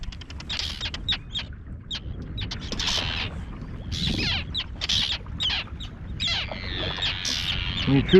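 Terns call repeatedly by a river below a waterfall in the Putorana plateau wilderness, sharp harsh cries coming in quick overlapping bursts over steady flowing water and a low background rumble.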